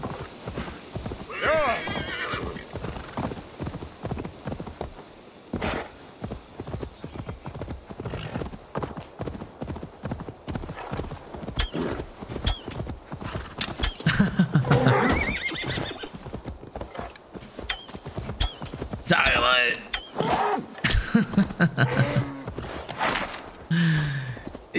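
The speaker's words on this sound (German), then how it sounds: "Pferdchen kommt auch runtergehoppelt." A horse in the Assassin's Creed Valhalla video game trots with steady, rhythmic hoof clip-clops and lets out loud neighs and whinnies, mixed with game ambience and occasional character sounds.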